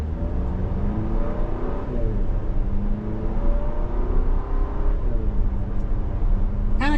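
A 2025 Chevrolet Traverse High Country pulls away from a stop, its engine note rising steadily in pitch as it accelerates, heard loud and close from inside the cabin with no talk over it.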